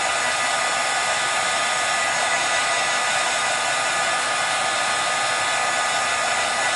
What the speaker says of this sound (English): So now I'm just drying.